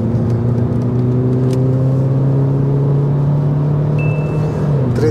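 Opel Grandland 2023 with a 130 hp engine accelerating, a loud steady engine drone rising in pitch as it pulls through the gear, heard from inside the car with no talking.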